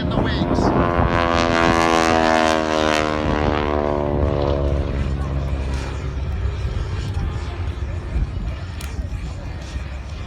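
A Stearman biplane at an air show in Grande Prairie, Alberta, its propeller engine droning loud overhead with a falling pitch as it passes and fades into the distance.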